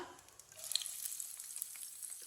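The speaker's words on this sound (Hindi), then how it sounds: "प्याज को हल्का सा ब्राउन कर लेंगे।" Chopped onion added to hot oil with cumin seeds and frying in a pan, a soft hiss rising into a steady bright sizzle with small crackles, close but fairly quiet.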